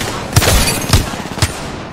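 Three sharp, booming gunshots ring out in Apex Legends, spaced about half a second apart over a steady bed of game ambience.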